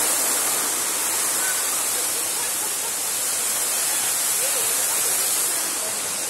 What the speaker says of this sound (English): water fountain.